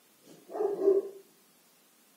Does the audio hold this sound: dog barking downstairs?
yes